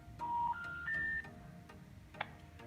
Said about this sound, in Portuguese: Disquei um número aleatório aqui e vou clicar para chamar.